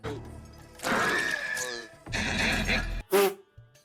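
A horse whinnies in a couple of shrill, wavering bursts, fairly loud and close, with a short sharp noise at the end.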